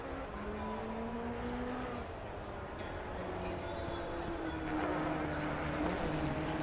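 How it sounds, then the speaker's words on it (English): A BMW GT4 race car engine in a racing video game drones steadily with rising and falling pitch as it shifts through gears, fairly loud and continuous, with a faint voice underneath. "Apparently one of the better sounding cars of a GT4"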